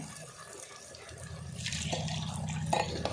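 Water is poured into a pan of spicy Tulu-style mackerel pulimunchi fish curry, a faint, steady splashing trickle that starts partway through and continues to the end.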